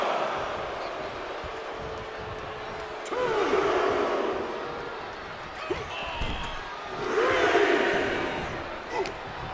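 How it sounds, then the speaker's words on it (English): Virtual arena crowd in the wrestling video game WWE 2K24 roaring and cheering steadily, swelling louder in waves, with a commentator talking over it. "The crowd is fired up."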